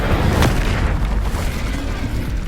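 An Incendio fire spell cast in Hogwarts Legacy bursts with a loud, sharp blast followed by a rumbling, crackling roar that fades over the next couple of seconds.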